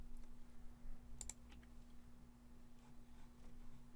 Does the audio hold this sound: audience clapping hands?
no